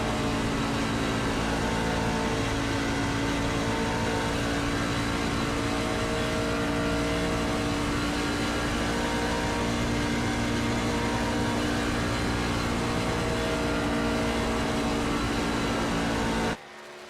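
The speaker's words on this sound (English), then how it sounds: "Revs just dropping with the tire scrub." A simulated race car engine in iRacing at Michigan screams at constant high revs, flat out, loud and unbroken, with a slight dip in pitch from tire scrub, then cuts out abruptly at the end.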